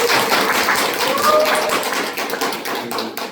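Audience clapping at a Korean lecture, a brisk close burst of hand claps that keeps going and thins toward the end, with a faint voice in the background.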